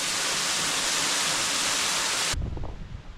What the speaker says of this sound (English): I'm above the waterfall now.